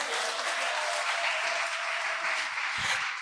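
A church congregation claps together in loud, steady applause that fills the room without pause for a few seconds.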